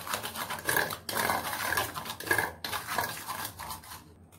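Fried taro root (seppankizhangu) tossed with salt and garam masala in a metal pan, quick close scraping and clanking strokes of a spoon in a brisk uneven rhythm, no voices.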